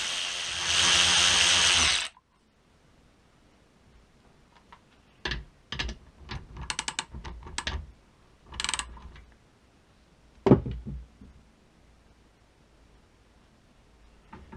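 DeWALT cordless ratchet driving a nut on a bolt until the threads strip, a loud motor whir for two seconds, then quieter scattered clicks and ratcheting taps.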